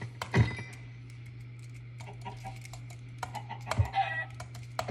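Chicken clucking in the video game Minecraft, short clucks recurring over a steady low in-game hum, one near the start and another toward the end, with no talking.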